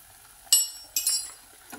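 Black masala amti stirred in oil in a pot, with two or three sharp metallic clinks of a spoon against the vessel over faint background sizzle, close and brief.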